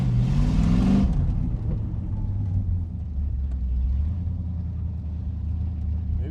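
A 1972 Corvette's 400 engine with a 400 automatic transmission and 355 posi rear end revs hard from inside the car, its rising note shifting into second gear, then settles into a steady rumbling cruise; a voice speaks briefly at the start.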